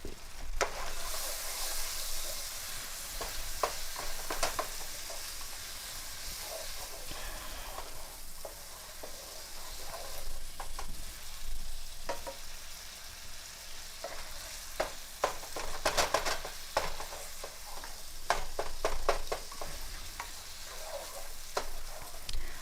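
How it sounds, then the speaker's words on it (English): Sausage, meat and vegetables fry in a skillet while being stirred quickly, a continuous close sizzle with scraping and clattering spoon strokes, some bursts louder than others. "I'm going to stir the meat and the vegetables real fast."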